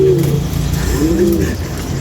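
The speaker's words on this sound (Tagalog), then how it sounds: "Ang laki ng ibon." A large bird gives low, harmonic cooing calls, two drawn-out phrases close by, with steady background noise and no talking.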